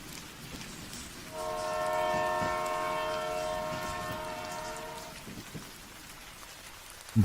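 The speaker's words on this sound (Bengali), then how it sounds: "ইতিমধ্যেই ট্রেন এসে থামল" A train sounds a sustained horn for about four seconds as it pulls into a rural station on a rainy evening, over a constant hiss of steady rain.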